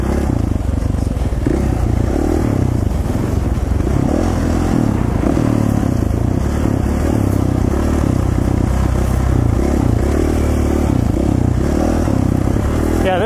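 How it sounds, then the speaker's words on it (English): Dirt bike engine on a single-track trail in Idaho, loud and continuous as it revs and pulls, with clattering and scraping from the rough ground, heard close up with no pauses. "This bike revs to the moon, but it'll still do well into the 70 mile an hour range."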